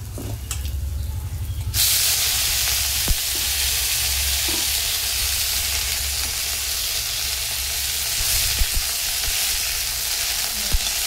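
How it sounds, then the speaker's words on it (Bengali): Greens and nigella seeds fry in a pan with a steady, close sizzle and hiss throughout, broken by a few sharp clicks of stirring. "দিয়ে ভাজা ভাজা করে নিয়ে তারপরে এর মধ্যে শাকটাকে দেব, দিয়ে ভাজবো"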